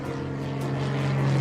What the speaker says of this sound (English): Is that plane, Ricky?